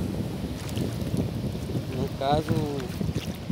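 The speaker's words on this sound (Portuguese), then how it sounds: "Deixa eu me apoiar aqui que tá ventando." Wind gusts roar steadily over the Muro Alto coral reef pools in front of the Nannai hotel on the seashore, a constant rough rush with a short spoken phrase partway through.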